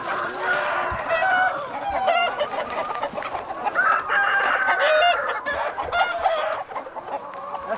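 Hens clucking steadily and a rooster crowing several times in a free-range chicken paddock on a farm, the birds close and loud, calls overlapping continuously with no talk.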